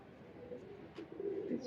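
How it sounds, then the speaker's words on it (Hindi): A large rooftop Rampuri pigeon coos in a low, soft, brief burble, faint and close, with a quiet rustle partway through. "अब ये छत वाला कबूतर देख लो इसको"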